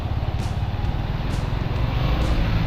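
Road traffic on a street in a barangay in Santa Maria, Bulacan: a steady low engine rumble from passing cars and motorcycles, close and continuous, with faint intermittent whooshes.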